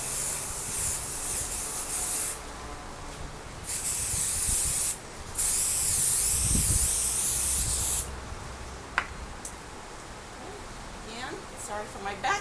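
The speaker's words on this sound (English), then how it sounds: "And we're going to spray this half." Liquid is sprayed onto one half of a piece of folded material in several hissing bursts of a few seconds each, close and bright, with faint rubbing between them.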